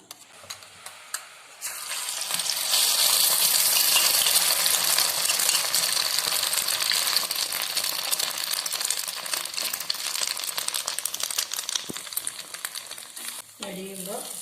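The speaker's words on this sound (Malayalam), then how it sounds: "എടുത്തു വെച്ച സാധനങ്ങളെല്ലാം ഇട്ട് നല്ലപോലെ മിക്സ് ചെയ്ത് പാനിലൊഴിച്ച് പൊരിച്ചെടുക്കുക" Quail egg omelette mixture sizzles loudly in a hot pan, a bright steady crackle that starts abruptly after a quiet moment and carries on with small spatters and scraping, fading slightly near the end.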